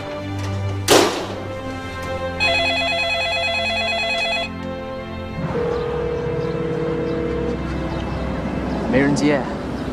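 A telephone rings in a home drama scene, a bright repeating electronic ring lasting a couple of seconds, with thumps and people talking around it.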